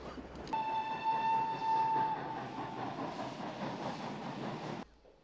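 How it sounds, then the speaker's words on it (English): A train arriving in the film Schindler's List: a steady whistle blast sounds over the rumble and clatter of rolling wagons, then the whistle stops while the train keeps rolling before the sound cuts off. "The train with the women has already left Płaszów and will be arriving here very shortly."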